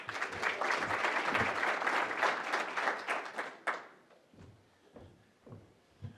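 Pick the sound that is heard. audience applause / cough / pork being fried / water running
audience applause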